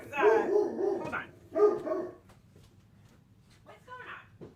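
A dog barks indoors, close and loud, with two short bursts of several barks each, then goes quiet apart from a faint yip near the end.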